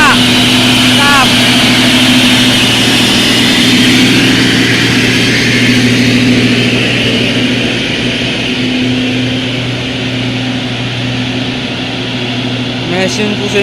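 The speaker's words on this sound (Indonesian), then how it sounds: "Mesin Fuso ini memang tangguh-tangguh ya, menaklukkan tanjakan Raniate." A Fuso tanker truck hauling palm oil in a five-truck convoy grinds up a steep hill, its engine droning loud and steady under load, with voices now and then above it.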